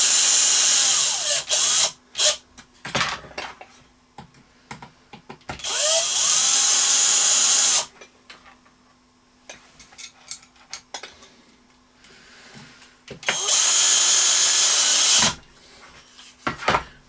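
A cordless drill fitted with a screwdriver bit runs in three separate bursts of a couple of seconds each, with clicks, handling noises and quiet gaps between them.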